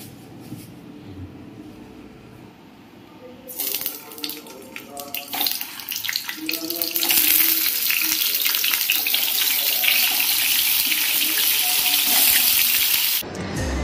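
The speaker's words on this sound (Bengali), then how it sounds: "একদিকে পটল ভাজা হচ্ছে" Pointed gourd frying in a pan in a home kitchen, a steady hissing sizzle that swells loud partway through and keeps on until it cuts off near the end, with brief clatter early on.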